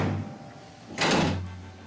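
A car hood latch mechanism releasing with a short, bright mechanical clack and rattle right up close, following a quieter stretch.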